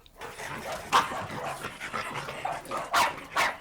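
Dogs bark in a household crowded with dozens of dogs, with several sharp barks spread through the clip, the loudest bursts near the start and toward the end, over a busy mixed background of other canine noise.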